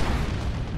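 A Vanquisher cannon fires in the strategy video game Dawn of War 2, a short, heavy boom with a dense low rumble, loud and close.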